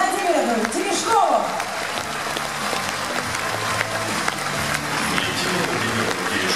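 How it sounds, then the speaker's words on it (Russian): A packed hall at the Kremlin Palace bursts into applause for Valentina Tereshkova, steady dense clapping throughout with a voice speaking over it at the start. "Тут уже зал взрывается аплодисментами."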